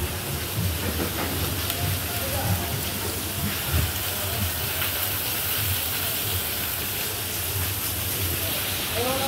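Hot cooking oil sizzles in a pan in a Dhaka eatery, a dense steady hiss that runs unbroken for several seconds with faint background bustle beneath.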